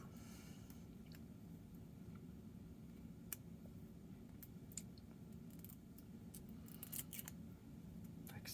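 Amazon parcels being opened by hand, with scattered crisp snips, rips and crinkles of packaging over a steady low hum, quiet and close with no talking.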